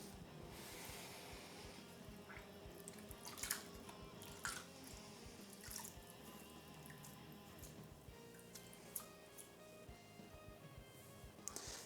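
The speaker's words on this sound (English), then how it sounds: "Almost impossible to clean my hands in this water." Steady running tap water splashes into a sink, with occasional brief clinks and splashes as hands are rubbed beneath the flow; no talking.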